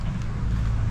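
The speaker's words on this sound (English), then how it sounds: "it's so windy, like everything is just windy" Wind blows steadily into an outdoor microphone, a dense, close rumble that fills the whole second without a break.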